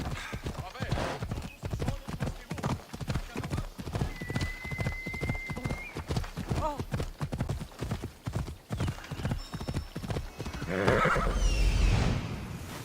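Horse hooves clip-clop in a steady, close rhythm in Assassin's Creed Odyssey, with a neigh partway through, under a continuous bed of game music and ambience that swells louder near the end.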